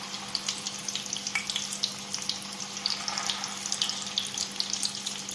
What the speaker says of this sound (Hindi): दोनों साइड से गोल्डन होने तक इनको फ्राई कर लें